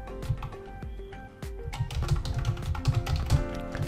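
Typing on a computer keyboard, a run of close, quick key clicks and taps that grows denser and slightly louder partway through.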